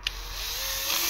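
A drill spins an old ABS ring near the wheel sensor of a Peugeot 207 with an ABS fault, giving a steady whining hum that rises slightly over about a second after a brief click at the start.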